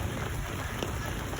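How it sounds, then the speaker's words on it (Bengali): Rain falls steadily over a village during the monsoon, a dense even patter on the ground nearby for a short stretch, with no talking. "দেখেন হাঁটতেছি বর্ষা মাসে বৃষ্টির মধ্যে।"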